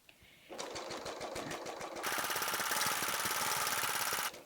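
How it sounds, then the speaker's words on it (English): A serger sewing machine stitching a placemat at moderate speed, a close rapid mechanical whirring chatter that starts up, then steadies into a louder, faster run before stopping abruptly. "And I'm just stitching at a moderate speed, not too fast."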